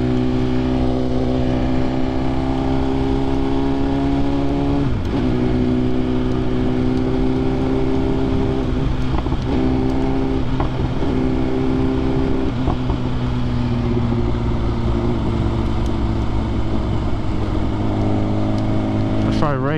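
A 1000cc motorcycle engine in dynamic riding mode drones steadily and loud throughout, with shifting harmonic tones as speed changes and a few brief dips around gear changes, heavy wind noise underneath and a voice talking over it.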